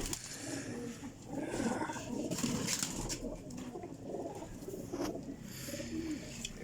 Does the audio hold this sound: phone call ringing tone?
no